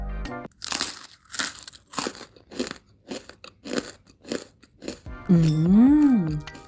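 Crispy keciput cookies, made without coconut milk, crunch loudly in a series of close, rhythmic bites and chews, followed by a short sung musical flourish at the end.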